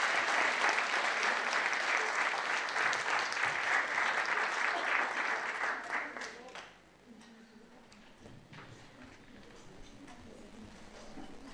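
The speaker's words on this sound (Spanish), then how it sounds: "Más fuerte ese aplauso, María." Loud sustained applause from a congregation at a religious gathering, dense clapping that fades out after about six seconds, leaving a quiet room with a few faint sounds.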